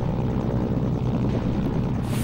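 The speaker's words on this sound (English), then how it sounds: "And there's my other chopper" A helicopter in the Mercenaries video game, a loud continuous rotor and engine drone that stays steady throughout with no speech over it.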